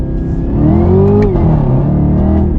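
Chevrolet Camaro SS accelerating hard in first gear, a loud close engine roar rising in pitch before easing off briefly, recorded from inside the car.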